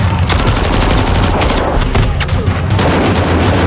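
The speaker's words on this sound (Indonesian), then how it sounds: "Terjadi kepanikan dan baku tembak." Dense, loud bursts of gunfire crackle back and forth in rapid overlapping volleys during a shootout, close and continuous for several seconds.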